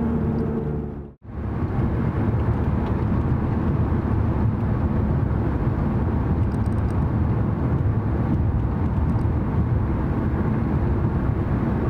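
A worn rear wheel bearing on a Dodge Dart sets up a constant droning hum and road roar inside the moving car, steady and loud apart from one sudden brief dropout near the start, with no voices.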